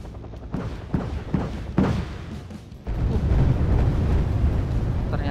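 An American M16 fires in the Wargame video game, cracking out in several sharp bursts. The firing then gives way to a heavy, continuous rumble of battle.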